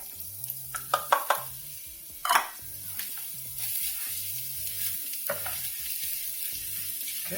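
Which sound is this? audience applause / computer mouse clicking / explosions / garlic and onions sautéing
garlic and onions sautéing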